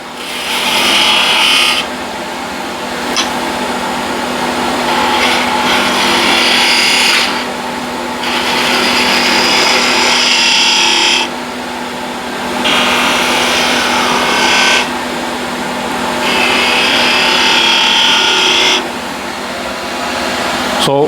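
A skew chisel cuts wood spinning on a lathe, a loud, hissing scrape in repeated passes of a few seconds each, broken by short quieter gaps where the tool lifts away over the steady motor hum.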